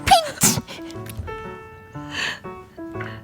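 A voice imitates a friend's odd sneeze, two sharp, breathy bursts near the start, followed by pitched vocal sounds, close and loud with no other background.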